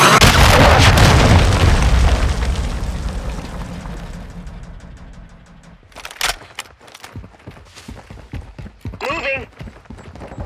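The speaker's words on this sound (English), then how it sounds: "Hostile cruise missile launched." A cruise missile in Call of Duty Modern Warfare 2 ends in a heavy, booming explosion that fades out over several seconds, followed by scattered sharp impacts and pops.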